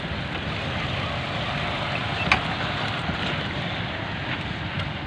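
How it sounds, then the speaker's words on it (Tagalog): A motor tricycle engine runs on a rainy morning ride, a continuous low rumble and drone blended with rain and wind hiss, steady and close, with a brief click midway and no talking. "sumakay ako ng tri-bike."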